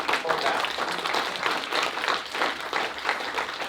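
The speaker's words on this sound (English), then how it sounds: "give this artist a good round of applause." An audience applauds a film's artist at a cast and crew Q&A, a broad, even patter of many hands clapping with a faint murmur of voices underneath.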